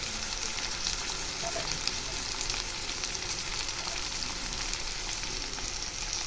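Tomato pieces frying with onions in a pan, giving a steady, dense sizzle that continues evenly throughout without pauses.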